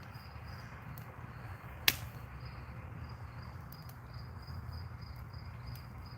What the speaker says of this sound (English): Well, I'm glad someone else can hear those crickets